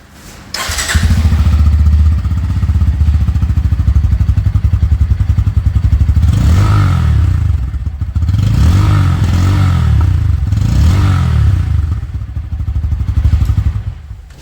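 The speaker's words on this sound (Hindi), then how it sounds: "तो दोस्तों अब इसका एग्जॉस्ट नोट सुन लेते हैं।" A 2024 Bajaj Pulsar N160 motorcycle starts up and idles with a deep, thumping exhaust note, blipped into several short revs, loud and close.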